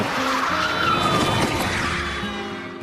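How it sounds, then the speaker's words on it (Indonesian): Car tires skid and squeal loudly as a driver swerves sharply, a single sustained screech lasting a few seconds and fading at the end, with no speech. "Ayah yang otoriter lalu membanting setir"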